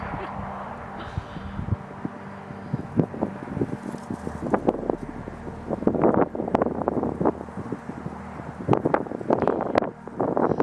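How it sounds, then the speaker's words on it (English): Wind blowing steadily outdoors, buffeting the microphone with a low rumble and rustle that swells in gusts and rough bursts, close and continuous throughout. "Are you hearing the wind that is constantly blowing anytime I'm doing Reiki out here?"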